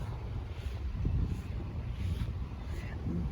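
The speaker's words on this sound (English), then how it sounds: "Very windy." Gusty wind on a lakeside in Chicago buffets the microphone in low, uneven rumbling surges that rise and fall throughout.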